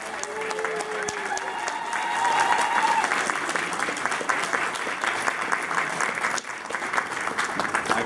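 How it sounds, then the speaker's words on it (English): Sustained applause from an audience at a Comanche Nation ceremony honoring a newly appointed vice chairwoman, steady dense clapping with a few faint voices and a brief whistle-like tone early on, lasting throughout. "How about a round of applause?"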